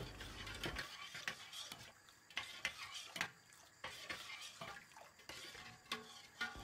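Sugar being stirred into warm water in a pot makes faint repeated scraping and clinking strokes in an uneven rhythm, heard close and quiet with no talk.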